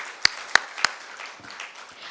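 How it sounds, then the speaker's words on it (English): An audience at a business forum applauds the presenters. Three crisp, close claps ring out over a soft wash of scattered clapping that thins out over about two seconds. "Let's have a round of applause for all of them."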